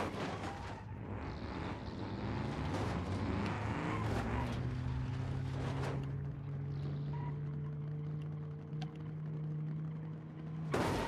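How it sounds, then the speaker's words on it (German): A car engine in BeamNG.drive, overheating, roars loudly and steadily with harsh droning tones and shifting pitch, then settles into a sustained lower hum, continuous throughout with no talking. "Der Motor ist schon am Überhitzen."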